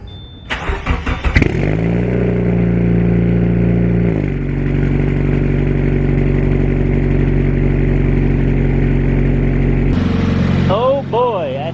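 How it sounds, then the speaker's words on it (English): A 2017 Subaru with an IAG Stage 2 block, freshly refilled with Motul 10W40 oil, cranks and fires up close by, revs briefly, then settles into a loud, steady idle that rises again near the end. "then let the car run"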